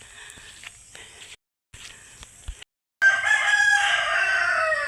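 A rooster crows once loudly and nearby among clucking chickens after a quieter stretch of soft farmyard clucks and small noises broken by brief silences.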